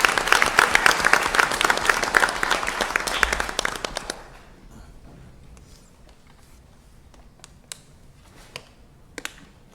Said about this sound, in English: So how about a round of applause for County Commissioner Linder?